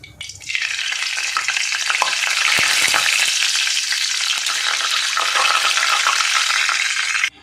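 Oil and ghee in a pan bursts into a loud, steady close sizzle that starts abruptly, holds evenly with small crackles and pops, then cuts off sharply.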